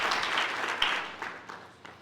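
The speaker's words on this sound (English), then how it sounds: "can you give them a nice round of applause?" A round of applause at an ANC provincial general council meeting for party veterans, a brief burst of many hands that fades out over about two seconds, with a few last scattered claps.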